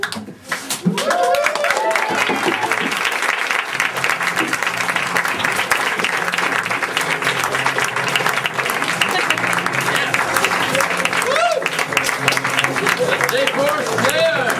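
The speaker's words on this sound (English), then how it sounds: "Yes, a round of applause" Theatre audience applauding at a December school stage show, dense sustained clapping close and loud for the full stretch, with voices murmuring underneath.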